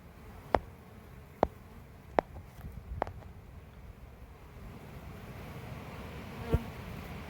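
Honey bees hum in a low, steady drone around a hive being moved into a five-frame nucleus box. Sharp clicks and taps cut through the buzz now and then, and no one speaks.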